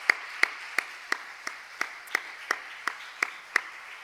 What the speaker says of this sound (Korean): 우리 격려의 박수 한번 나와주시면